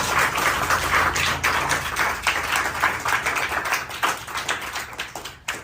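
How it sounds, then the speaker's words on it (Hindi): Loud, dense clapping from a group of people at a school Teacher's Day celebration, fast overlapping hand claps sustained for several seconds before thinning out near the end. "एक बार फिर से जोरदार तालियां हो जाए।"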